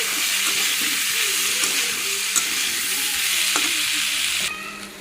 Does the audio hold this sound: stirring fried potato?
yes